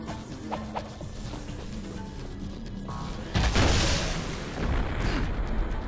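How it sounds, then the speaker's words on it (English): Peacemaker gun blasts in the Jak 3 video game, a few sharp cracks early on, then a heavy booming burst that rolls into a sustained rumbling explosion, loud and close. "now I'm gonna be using that peacemaker ammo."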